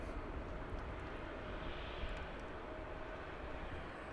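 A distant Airbus A321 jet airliner roars on departure from a large airport, producing a steady, broad engine rumble that stays constant and fairly faint throughout with no talking.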